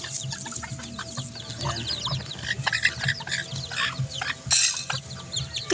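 Several chickens and chicks cluck and chirp busily near the listener over a steady farmyard hum, with small peeping calls from the chicks mixed in and no talking.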